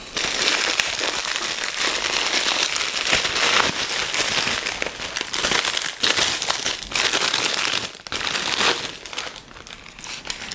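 Plastic wrapping around a leather women's wallet crinkles and rustles loudly and continuously as the package is torn open, with a brief lull near the end.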